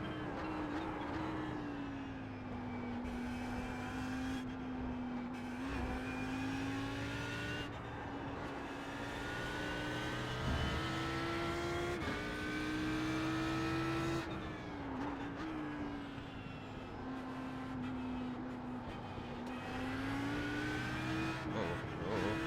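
Audi R8 LMS race car engine at the Spa circuit, heard from inside under load, a loud continuous roar rising and falling through gear changes and corners as it accelerates and brakes.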